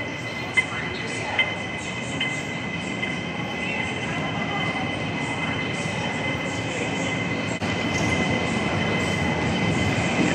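An airport monorail train heading to immigration rolls along with a steady rumble and hum, faint wheel squeal, and a couple of light clicks, heard from inside the car.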